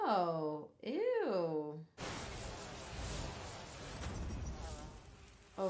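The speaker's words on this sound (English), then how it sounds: "the buzzing in the ear" An insect buzzes close to the ear in an anime fight scene, a steady hissing drone that follows a short stretch of voices making wavering sounds.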